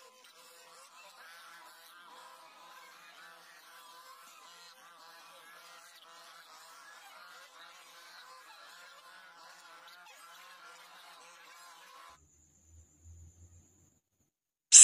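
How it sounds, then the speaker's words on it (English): Geese honk continuously for about twelve seconds, a dense flock chorus of overlapping nasal calls at steady loudness, then it cuts off into near silence with a brief low thump and a sharp click at the end. "Goose."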